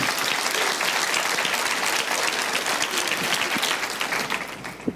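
A church congregation applauds during a sermon, a dense, continuous wash of many hands clapping together that holds steady for several seconds and eases slightly at the end.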